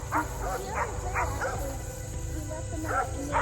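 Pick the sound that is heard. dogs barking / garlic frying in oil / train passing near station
dogs barking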